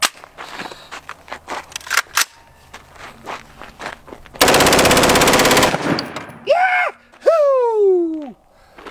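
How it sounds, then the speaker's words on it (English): Bursts of full-auto machine gun fire from a pistol-version gun fitted with a new barrel, a sustained loud rattling volley lasting over a second amid scattered shots and clatter, followed by a voice whooping loudly. "Shoot machine guns and get a bang out of it"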